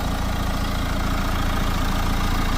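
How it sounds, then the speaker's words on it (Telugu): A 2020 Mahindra XUV700 AX5 diesel engine idles close up with a steady, even, unbroken drone and no voices. "మీకు బండికి సంబంధించిన స్టార్టింగ్ కూడా చూపిస్తున్నాం"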